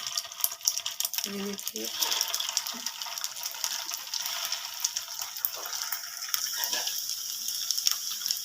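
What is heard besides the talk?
beef gola kebabs being added to hot oil in pan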